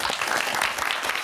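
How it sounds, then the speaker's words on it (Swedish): A television studio audience applauds a guest's entrance, a short, dense burst of clapping at steady volume. "En applåd tycker jag."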